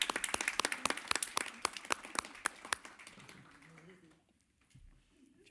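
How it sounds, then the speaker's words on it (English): A small group at a disability advisory committee meeting gives scattered, moderately loud applause of sharp individual claps. It thins out after about three seconds, leaving quiet room sound and some faint talk. "I think that deserves a round of applause"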